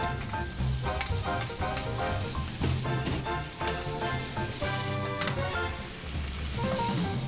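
Tofu hits a hot pan for Szechuan string beans, setting off a loud, continuous sizzle and spatter with dense crackling that holds steady from start to finish.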